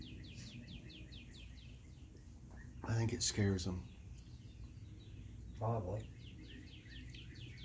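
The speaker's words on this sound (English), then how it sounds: "the birds start up." Small birds chirp and trill repeatedly in the background outdoors once lawn mowers have stopped, a steady, moderately distant chorus of short calls heard under people talking nearby.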